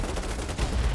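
Loud, close gunfire from an AUG rifle in the video game Battlebit Remastered, dense shots crowding together across one brief second.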